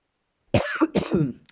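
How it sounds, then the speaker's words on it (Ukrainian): Two quick, close coughs in a row, sharp and throaty, heard alone against silence. "І ось і почав кашляти."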